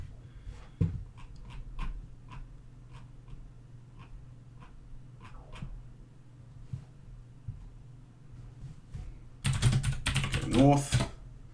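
Typing on a computer keyboard during a text adventure game session, scattered sparse key taps with pauses, ending in a louder, rapid clatter of keystrokes.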